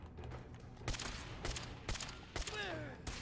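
Enemy gunner firing in the video game Fallout 4: several sharp gunshot bursts crack out at intervals over a steady game background, one followed by a rising whine, with no talk.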